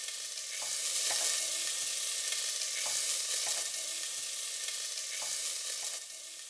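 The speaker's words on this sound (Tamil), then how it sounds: "இப்போ நம்ம சமைக்க போகிற குக்கர் பாத்திரத்தில் மீதி இருக்கிற வெண்ணெயை போட்டு போகிறோம்." Butter sizzles steadily in a pressure cooker while masala fries for tomato biryani, a close, continuous hissing crackle with faint stirring scrapes recurring throughout.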